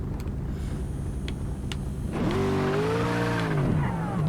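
A Panoz race car laps the Texas road course in a racing video game, its engine humming low and then surging as it revs up, the pitch rising and sweeping, close and loud without any talk.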